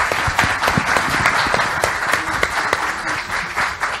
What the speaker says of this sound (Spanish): un gran aplauso para nuestros invitados.